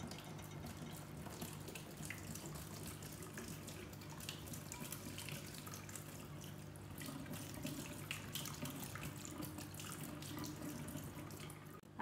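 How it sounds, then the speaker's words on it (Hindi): Steady running water from a kitchen tap pours through a strainer as paneer is rinsed, a continuous even splashing hiss with no pauses. "पछी एना चोखा पाणीथी धोई नाखवानुं एकदम पनीरने।"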